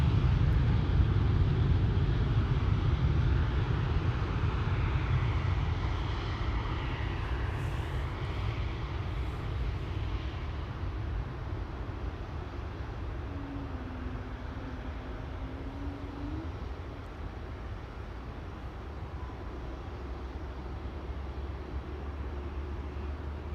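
An airliner departs Amsterdam Schiphol bound for Dubai, its engines a steady broad roar that starts strongest and eases slightly as it moves off, heard alone in open outdoor air.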